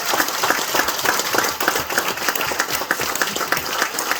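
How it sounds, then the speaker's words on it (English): Audience applause at a BBC Make A Difference award presentation for a river group, a steady, dense round of clapping that holds at an even, fairly loud level throughout. "so let's give them a round of applause,"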